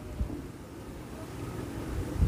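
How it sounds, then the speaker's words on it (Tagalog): Strong wind roaring outdoors at Monte Maria in Batangas City, a continuous low buffeting rumble against the microphone with a few heavier gusts, no voices. "Lakas talaga ng hangin."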